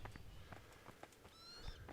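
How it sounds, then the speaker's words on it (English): Horses in a medieval video game, a quick run of hoof clip-clops moving over ground, faint and close-ish, with a short whinny-like squeal near the end. "Oh, there are horses."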